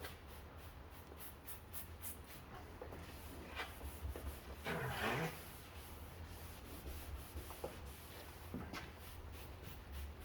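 A car headlight clouded by exhaust smoke is scrubbed clean by hand, giving soft, intermittent rubbing strokes with one louder, longer scrub midway, close and otherwise quiet.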